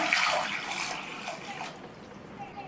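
Water pours into a pressure cooker holding a quarter kilo of washed potatoes, a close splashing stream that gradually softens and trails off.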